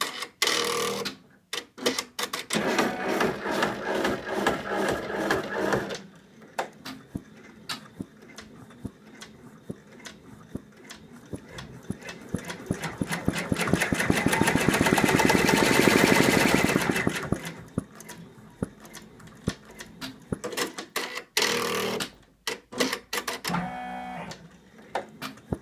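An embroidery machine stitches white eye highlights on an in-the-hoop zippered purse, a rapid mechanical clatter in bursts separated by short pauses, with one longer humming stretch mid-way, close-up and without talk.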